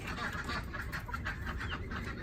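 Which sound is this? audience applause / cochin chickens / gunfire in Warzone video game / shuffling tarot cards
cochin chickens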